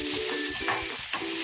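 Chopped onion sizzles in a hot kadhai, a steady close crackling fry with faint stirring and no voices.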